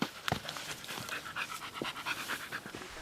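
Search and rescue dogs on a mountain mission on Mt. Halcon pant rapidly and close by in a steady, breathy rhythm, with a few sharper huffs mixed in.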